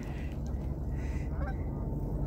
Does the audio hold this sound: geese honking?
yes